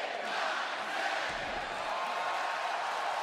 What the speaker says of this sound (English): A record-breaking crowd here tonight in Fort Lauderdale on its feet